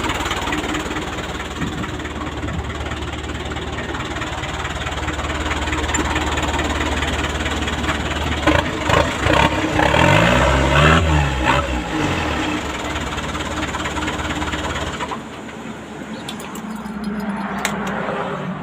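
A used Hino FB truck with a W04D four-cylinder diesel idles steadily with a deep, rumbling knock that swells briefly, then drops to a quieter, thinner hum near the end.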